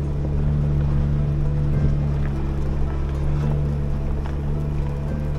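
A steady low electrical hum drones continuously under faint outdoor ambience and light wind.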